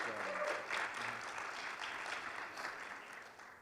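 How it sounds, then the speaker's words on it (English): A crowd applauds at a leadership talk, a steady wash of clapping that holds for a few seconds and slowly fades, with no voices over it. "give him a round of applause"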